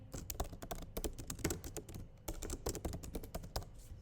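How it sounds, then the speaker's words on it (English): Fingers tap quickly on a computer keyboard as a company name is entered, a close, quiet run of clicking keystrokes with a brief pause midway and no voices. "All you have to do is to type in your company name"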